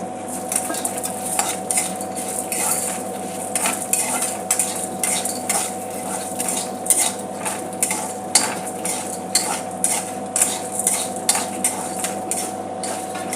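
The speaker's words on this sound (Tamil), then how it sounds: "இப்போ கடலைப்பருப்பையும் உளுந்தையும் போட்டு நல்லா வதக்கிக்கணும்" Chana dal and urad dal are stirred and sautéed in a pan over low heat, a spatula scraping and clattering in quick steady strokes against the metal under a soft background sizzle, close by with no voices.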